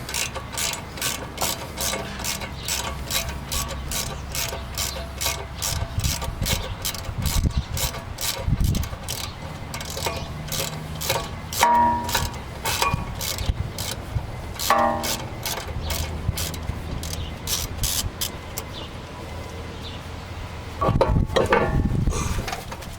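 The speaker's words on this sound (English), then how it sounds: "Now I need to take off the other knuckle castle screw. We're going to use a 10mm" Ratchet wrench with a 10mm socket loosening a knuckle castle screw on a cheap Honda Accord during axle and ball joint work, rapid steady clicking of the pawl in repeated bursts, close and clear, no talk.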